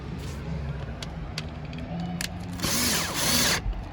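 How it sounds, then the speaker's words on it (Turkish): A cordless drill drives a self-tapping screw while a ceiling light fixture is mounted, with a short burst of whirring near the end that follows quieter handling noises. "Bir tane akıllı vida alıyorum. Şarjımı alıyorum."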